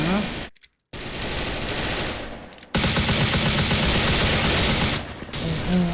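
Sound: gunfire from enemy shooting at player in Special Force video game

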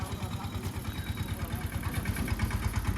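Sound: tractor engine arriving

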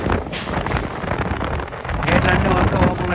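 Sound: strong wind

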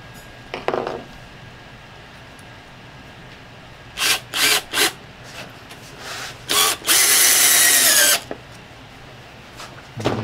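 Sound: power drill driving stainless steel screws into saddle leather

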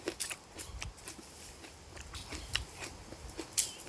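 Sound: biting into a raw storage onion

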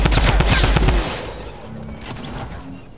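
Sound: gunfire from a video game

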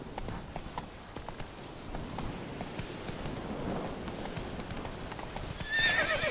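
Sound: horse galloping in The Witcher 3 video game

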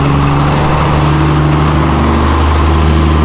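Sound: truck engine at a car meet

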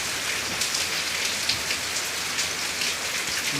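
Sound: heavy rain falling

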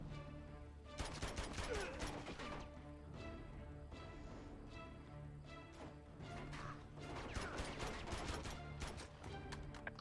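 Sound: gunfire in Uncharted 2 video game

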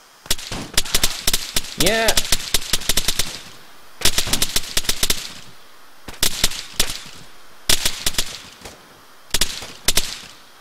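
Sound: gunfire in video game ARMA III

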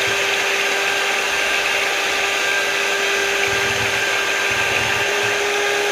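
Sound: beating kuppaimeni herbal soap mixture

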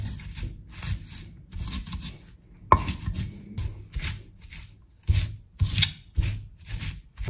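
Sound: pressing spices in a stone mortar (cobek)

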